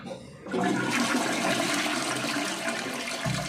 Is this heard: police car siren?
no